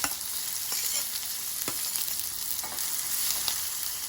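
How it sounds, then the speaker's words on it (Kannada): Chopped onion hits hot oil with cumin seeds and sizzles steadily, with a few soft stirring scrapes over the continuous close frying hiss. "ಹೆಚ್ಚಿಟ್ಕೊಂಡಿರುವಂತಹ ಒಂದು ಈರುಳ್ಳಿಯನ್ನು ಹಾಕ್ಕೊಳ್ತಾ ಇದ್ದೇನೆ."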